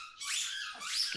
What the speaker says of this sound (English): dogs squeaking back in the background.